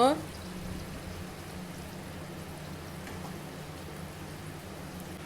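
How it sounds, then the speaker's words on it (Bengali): A steady, soft bubbling hiss of hot water simmering with katla fish curry in a pan, continuous and fairly faint throughout. "জলটা ফুটে গেছে"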